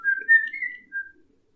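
A person whistles a short, wavering tune of a few breathy notes that shift only slightly in pitch, close and clear, then stops into silence.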